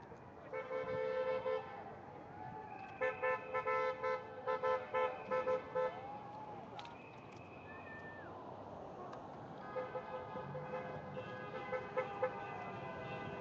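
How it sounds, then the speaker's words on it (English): Several car horns honk in support, repeatedly in bursts over steady street noise, some long blasts and some short toots, moderately distant. "that sound is the sound of car horns honking in support"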